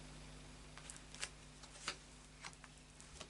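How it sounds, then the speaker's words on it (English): Lightseer's Tarot cards being shuffled by hand, heard as soft, quiet papery flicks and riffles, with a few sharper snaps of the deck standing out over a low steady hum. "a final shuffle of the Lightseer's Tarot"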